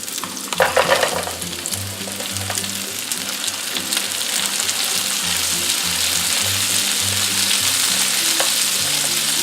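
Shrimp are added to a stir fry of peas in a pan, starting with a few sharp clatters and then settling into a steady, dense sizzle of frying that holds to the end with no talk.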